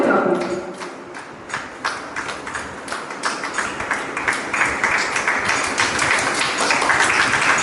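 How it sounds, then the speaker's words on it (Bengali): A crowd at a Purulia Chhau dance event claps steadily and builds louder over several seconds, filling the space with dense, continuous applause. "তাই করতালি চলতে থাকুক।"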